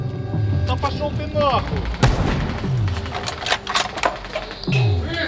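Sniper gunfire in a war zone: one sharp, loud report in the middle, with rapid clatter and other shots around it, heard under agitated voices talking over a busy, noisy background.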